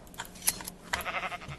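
Short sheep bleats in a video game, a couple of nasal calls rising over a faint background, with a brief jingling sound near the start.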